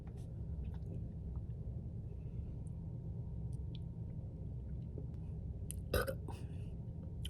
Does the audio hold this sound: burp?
yes